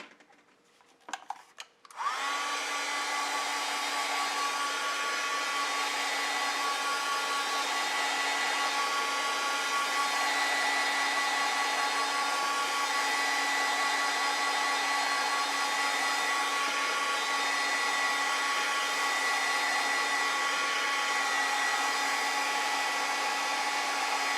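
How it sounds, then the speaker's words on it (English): A hair dryer switches on after a brief rustle and then blows steadily for a long stretch, a loud, even whirring hum while it dries a watercolor painting of poppies. "I'm going to dry this so I can paint on here."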